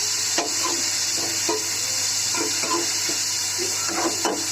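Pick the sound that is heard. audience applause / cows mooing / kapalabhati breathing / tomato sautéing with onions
tomato sautéing with onions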